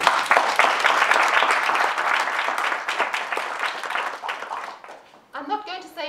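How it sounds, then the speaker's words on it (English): Warm audience applause at the launch of the African Centre for Epistemology and Philosophy of Science: a full room of hands clapping loudly and continuously for about five seconds, then fading as a voice begins speaking. "And just a really warm round of applause, I think, to the people who have been able to found this and set the center in motion."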